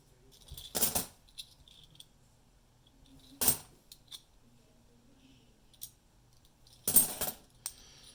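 Fifty-cent coins fall while a coin roll is sorted, landing as three sharp metallic clinks spread across quiet moments, with faint clicks and low background noise between them.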